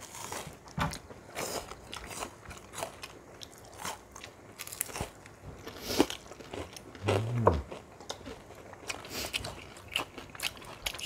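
Close crunchy bites and chewing of fried shrimp and flat dumplings at a Korean mukbang with spicy cheese rabokki, crisp crackles repeating irregularly with small pauses between mouthfuls.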